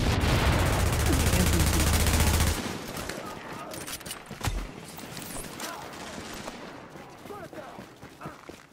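Rapid gunfire bursts in the video game Tomato Team: Rogue Chronicles, dense and loud for the first couple of seconds, then scattered fainter shots and mechanical clicks trailing off.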